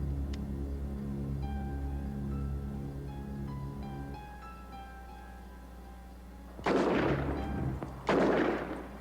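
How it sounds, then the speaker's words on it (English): Two loud gunshots crack in a TV movie, coming near the end one after the other, after a stretch of low sustained music. "Anyone hear the shots, Al?"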